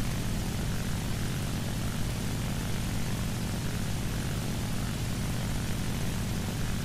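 An IL-2 ground-attack plane's piston engine drones in flight in the War Thunder game, a loud, steady propeller roar with a constant low throb holding unchanged throughout, no voices over it.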